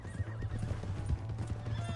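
A horse in Red Dead Redemption 2 clops along with a rapid, muffled hoofbeat rhythm and a neighing whinny, close and moderately loud over a low background rumble.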